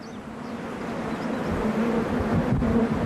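Honey bees buzz steadily around a hive, a dense outdoor drone of wings with a low hum that holds throughout, fairly close and continuous, with no voices.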